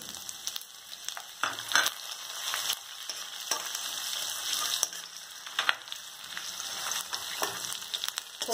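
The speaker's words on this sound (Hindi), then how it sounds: "अब इसमें अंदर आप अदरक और जो लहसुन हमने चॉप किए थे वो डाल दीजिए" Chopped ginger and garlic fry in hot oil with asafoetida in a pan for kadhi pakoda, giving a steady sizzle with occasional stirring clicks and scrapes, moderately quiet and close.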